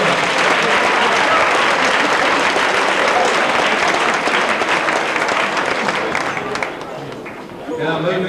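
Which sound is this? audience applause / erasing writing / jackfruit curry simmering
audience applause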